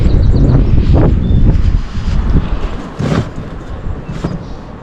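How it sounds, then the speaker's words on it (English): Strong wind blowing outdoors in a garden, gusting loudly and buffeting the microphone in waves with a rough, roaring texture. "There's a lot of wind."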